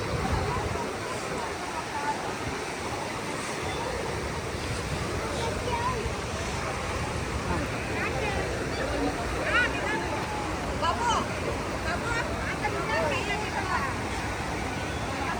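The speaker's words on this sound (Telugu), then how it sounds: "ఇది గైస్ వాటర్ ఫాల్స్ అంట." Balmuri Falls waterfall, a continuous broad rushing roar of falling water heard throughout, with a crowd's background chatter mixed in.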